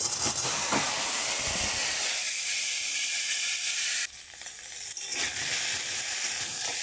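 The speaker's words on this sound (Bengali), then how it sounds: "একটু কালো জিরে ফোড়ন দেবো" Loud, steady sizzling of nigella seeds in hot oil, a continuous bright hiss that dips briefly midway and then surges back.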